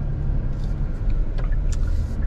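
A 2020 Kia Stinger GT out on a short test drive just after a brake pad replacement, with a steady low road and engine rumble throughout and a few faint ticks and squeaks over the top.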